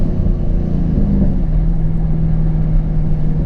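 A 2014 Chevy Camaro SS V8 pulls hard through second gear, its deep engine note rising in pitch as it accelerates, loud, close and steady with no talk.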